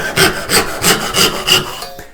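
Hand saw cutting wood held in a workbench end vise, roughing out a bow tie or butterfly piece: five loud, even back-and-forth rasping strokes close by, then the sawing stops.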